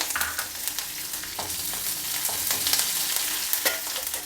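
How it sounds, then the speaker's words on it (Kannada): Finely chopped curry leaves hit hot oil with roasted cumin seeds, giving a loud, continuous crackling sizzle with sharp pops and stirring scrapes throughout. "ಈಗ ಕರಿಬೇವಿನ ಸೊಪ್ಪನ್ನ ಸಣ್ಣದಾಗಿ ಹಚ್ಚಿಟ್ಕೊಂಡು ಹಾಕಿದೆ"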